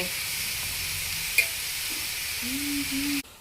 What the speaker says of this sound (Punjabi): ਗਾਜਰਾਂ ਪਾਓ ਕੱਦੂਕਸ ਕੀਤੀਆਂ ਹੋਈਆਂ ਚੱਕਰੋ ਚੱਕਰੋ ਚੱਕਰੋ